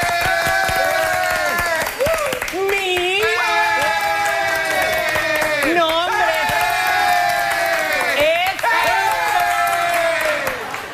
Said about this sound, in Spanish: ¡Ya está bueno de aplaudir!